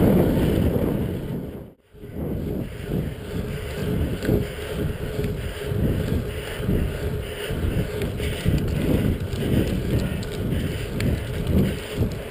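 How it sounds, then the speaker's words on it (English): Steady wind roar buffets the microphone while riding a Cannondale F4000sl bicycle into a stiff headwind on a hill, a continuous broadband rush with a brief dropout near the start and pulsing gusts throughout. "Now we're into a stiff headwind that we would have hit on the other hill."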